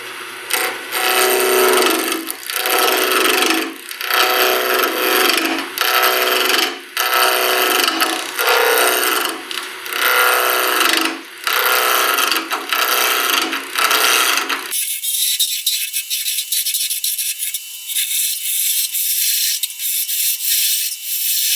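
A wooden finial blank is roughed to a cylinder on a wood lathe, loud rhythmic scraping and chattering cuts pulsing about once a second, then the gouge lifts away leaving only the lathe motor's steady whine.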